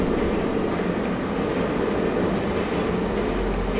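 A train rumbles along the tracks in GTA V Online, a steady, loud, dense roar that holds unbroken for the whole stretch with no talk over it.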